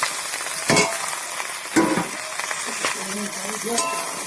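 Chopped green chili and vegetables hit hot oil in a frying pan for a small rohu fish curry, giving a steady close sizzle with a few clinks and stirring scrapes.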